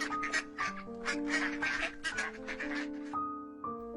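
Cartoon ducks quack in a lively run of repeated calls, loud and close, with a few short pauses and no talking.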